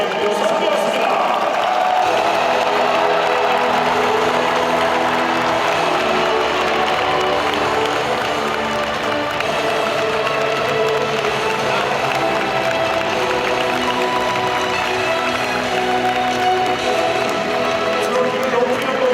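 Stadium crowd applauding and cheering at the Doosan Bears' 2019 Korean Series championship trophy ceremony at Jamsil, a dense, loud, sustained roar of clapping and voices filling the whole stretch.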